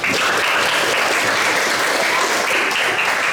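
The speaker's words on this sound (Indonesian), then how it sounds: "Beri tepuk tangan buat teman-teman." Classmates in a school classroom clap for their peers during an Indonesian language lesson, a dense, steady burst of hand claps that fills the whole stretch at close range with no talk over it.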